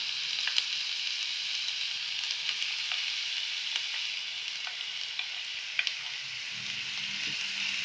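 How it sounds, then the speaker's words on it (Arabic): Onion sautés in olive oil in a pan, giving a steady, soft sizzle with small crackles throughout and no voices. "هي البصله راه تشحرات لينا"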